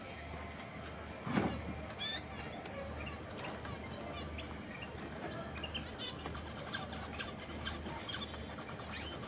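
Several pet canaries chirp in a room, with scattered high tweets and short trills over a low steady background hum and one louder flutter-like burst, near and fairly quiet.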